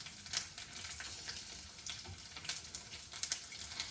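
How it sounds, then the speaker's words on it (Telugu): Peanuts and curry leaves fry in a pan for peanut chutney, giving a soft, continuous crackling sizzle with brief louder pops, close and fairly quiet. "ఈ పల్లీలతో పాటు ఇవి కూడా కొంచెం కరివేపాకు వేసుకుంటున్నానండి. చూసారు కదా ఎలా ఫ్రై అవుతున్నాయో"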